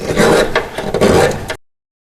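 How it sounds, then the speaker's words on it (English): Half-moon file rasping metal swarf from a cut edge in a Volvo Amazon engine bay, a steady close scraping stroke repeated about three times, then stopping abruptly. "I'm just going to use a half-moon file and just clean up that swarf."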